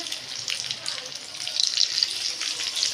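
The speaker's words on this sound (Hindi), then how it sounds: "ये कबाब मैंने डाल दिए हैं, इसको साइड में फ्राई करके इसके हम साइड पलटेंगे" Mixed vegetable and chicken kebabs fry in a pan with a steady, close hiss of sizzling oil and a voice speaking over it.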